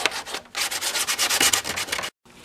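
A carbon fiber Kawasaki Ninja motorcycle fairing is sanded by hand in quick, close, rasping back-and-forth strokes, with a brief pause near the end.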